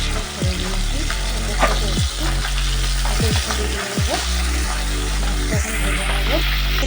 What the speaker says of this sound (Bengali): এই যে সরষের তেল, বাটা মাছগুলো ভেজে নেব